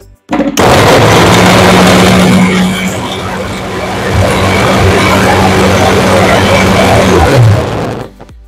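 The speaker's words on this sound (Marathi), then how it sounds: "आता मिक्सरला वाटून घेऊया." Electric mixer grinder blending muskmelon with milk, sugar and ice cubes, starting abruptly into a loud, steady whirring roar with rattling ice, shifting pitch briefly midway before cutting off at the end.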